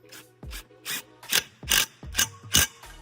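A fitting being snugged up on the center tube of a Maverick stand, heard as a series of about seven close, rhythmic ratcheting clicks and rasps, alone without talk.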